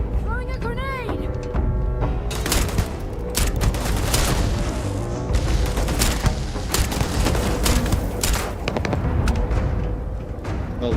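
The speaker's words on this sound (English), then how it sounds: "Throwing a grenade!" A grenade blast amid a chaotic firefight in the video game Starfield, with booming explosions and rapid gunfire layered densely and loudly throughout.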